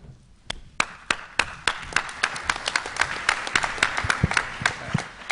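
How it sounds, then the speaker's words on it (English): Applause from a conference audience at an emergency medicine meeting, scattered individual claps building into steady, moderately loud clapping that runs through the whole stretch with no voices over it. "I don't deserve applause."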